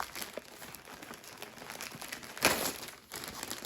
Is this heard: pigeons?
no